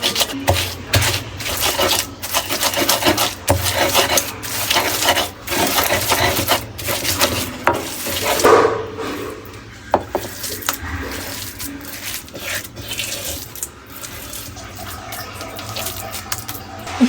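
Gourd peel, shrimp, garlic and onion ground by hand on a grinding stone, with continuous rough scraping and rubbing strokes, loud and close, punctuated by occasional knocks, no talking.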